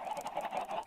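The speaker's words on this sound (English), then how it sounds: "we've got a small army of chickens, which do just give out eggs" A small flock of Minecraft chickens on an egg farm clucks in quick, overlapping bursts, close and moderately quiet, with no talk.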